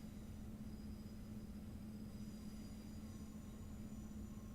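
A train in a railway driving simulator on the Midland Main Line near St Pancras gives off a faint, continuous low rumble with a steady hum, with no distinct events and no talk over it.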